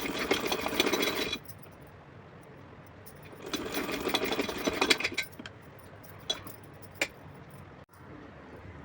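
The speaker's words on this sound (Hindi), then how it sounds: "मोड़ने के बाद में इस पर यहाँ से मैं सिलाई लगाऊंगी।" A sewing machine stitches piping on a small Laddu Gopal dress in two short bursts of rapid close whirring, separated by a quiet pause, followed by a few light clicks and handling knocks.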